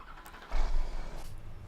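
A tractor engine in Farming Simulator 17 cranks and catches, settling into a low steady idle rumble, fairly close with no talk.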